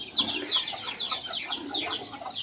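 Fighting cocks cluck in quick, bright bursts, several birds calling close together in a busy overlapping stream at moderate volume.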